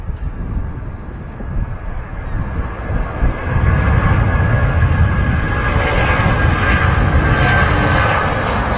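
A Virgin Atlantic Boeing 777 departs Manchester Airport on its way to Bridgetown, its broad engine roar building steadily and growing louder about halfway through, then holding a loud, sustained rumble.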